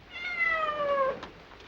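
A cat meows one long, drawn-out cry, clear and fairly close, followed by faint stray noises and no talking, set within a 1920 film scene.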